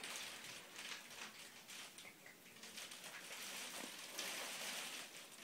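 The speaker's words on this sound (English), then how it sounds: "you can really hear it rattling against the window. It's proper raining." Heavy rain in Sheffield patters against a window, a steady, dense hiss of drops that stays fairly faint and even throughout, with no voices.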